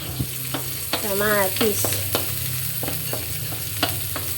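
Onions sauté in a pan until translucent, with a soft sizzle and sharp intermittent scrapes and taps of a spatula stirring them; a brief squeak-like tone rises over the cooking midway.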